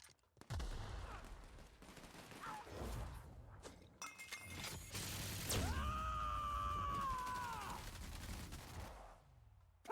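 Gunfire in a chaotic sci-fi shootout in The Outer Worlds, loud bursts and shattering cracks packed together with a sustained whining energy tone partway through, dense and continuous over game noise.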